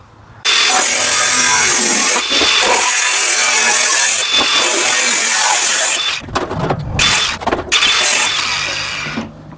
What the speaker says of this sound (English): we've got our metal blade in, so we're just going to whip that bit off